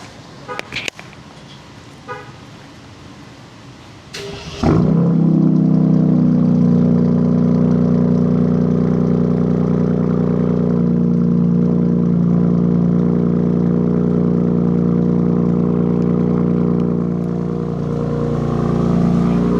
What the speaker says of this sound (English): we're about to do our first cold start